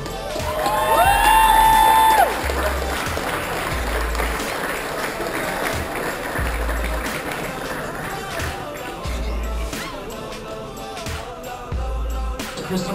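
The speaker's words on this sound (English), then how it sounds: "Give him a big round of applause." Audience at a 2017 film and art festival applauding a performance organizer, mixed clapping and light cheering amid crowd chatter, with low thumping bursts underneath and a moderate, fairly steady level.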